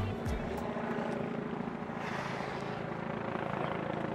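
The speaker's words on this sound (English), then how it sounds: "We're trying to film helicopter." A helicopter flying over London, heard as a steady, fairly distant rotor drone over city ambience and holding at an even level throughout.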